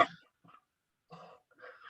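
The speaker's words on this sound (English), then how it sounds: "I have little cough here." A man gives several short, dry coughs close by, in separate bursts with pauses between them, quiet and without speech.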